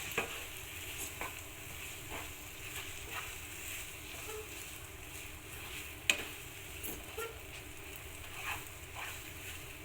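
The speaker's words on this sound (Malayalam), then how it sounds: "ഒന്ന് ഇളക്കി കൊടുക്കാം" A spoon stirs a mashed banana mixture with ground cumin and cardamom in a pan on the stove, soft scraping strokes at an irregular rhythm over a gentle sizzle, close and quiet, with no talking.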